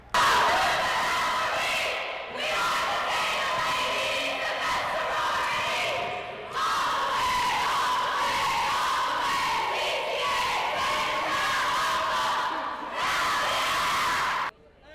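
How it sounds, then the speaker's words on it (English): A rowdy crowd at a student basketball tournament cheers and screams in loud sustained bursts. The roar pauses briefly between waves, with shouts and whoops throughout. "They also had a rowdy supporting cast cheering them on as they were playing"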